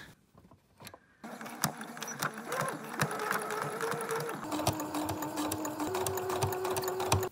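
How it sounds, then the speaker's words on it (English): A sewing machine runs in a steady, close, buzzing whir as it stitches over a pinned, tucked hem on a homemade outfit, starting after a second of near silence and shifting speed a few times. "now I'm just gonna sew right over top of that"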